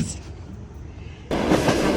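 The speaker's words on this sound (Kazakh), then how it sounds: "поезд жібереміз. Поезд." After a quiet moment, a sudden rumbling, clattering train-like noise starts up and carries on to the end.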